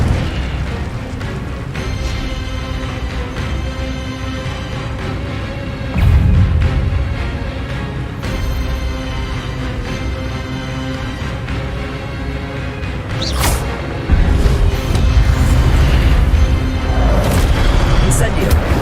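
Incendio fire spells in Hogwarts Legacy erupt as loud booming bursts several times, each swelling out of a dense, continuous game roar.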